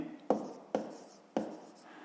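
Pen strokes on paper while working a fifth-grade maths exercise, three distinct scratchy bursts spaced about half a second apart, close and fairly quiet with no talk.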